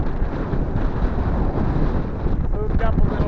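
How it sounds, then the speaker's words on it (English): Gusty wind buffets a fishing boat on Lake Erie in big waves, a steady broadband rush with a faint voice-like tone near the end. "These gusts pushing us up into the shore."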